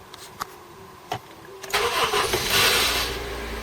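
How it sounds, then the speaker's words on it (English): The starter motor of a 2005 Honda Civic, sounding weak and unwell, cranks the engine with a few short clicks and whirs before the engine catches and settles into a loud, close idle. "Ooh, that starter motor sounds a bit sick."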